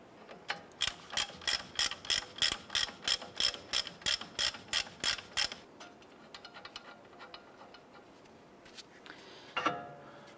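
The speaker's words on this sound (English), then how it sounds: "Let's go ahead and remove this upper nut here." A ratchet loosens the upper nut on the steering knuckle of a 2011-2018 Ram 1500 with about sixteen quick, evenly spaced clicking strokes up close, then fades into quiet handling noises and a brief clatter near the end.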